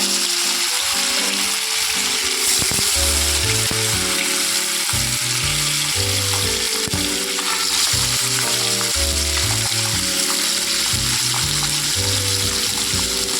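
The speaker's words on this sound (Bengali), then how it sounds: "এবার আমি কড়াতে তেল দিয়ে এক এক করে ভেজে নেব মাছগুলো।" Chital fish pieces fry in hot oil in a wok, giving a dense, continuous sizzle that stays loud and close for the whole stretch, with background music underneath.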